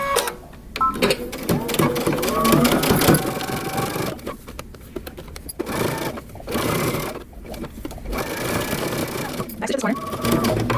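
A sewing machine stitching the facing of a long coat, rapid needle bursts starting and stopping in close, loud runs, under a voice talking throughout.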